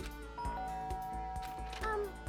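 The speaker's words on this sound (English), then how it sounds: "I guess I should press the doorbell." A soft electronic doorbell chime in the video game Danganronpa: Trigger Happy Havoc rings out over quiet, ticking background music, with a sustained tone that lingers briefly.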